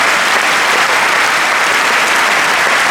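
A ceremony audience claps loudly and steadily for a prize-winning student at the Concours Général awards, a thick, continuous wash of applause with no voices on top.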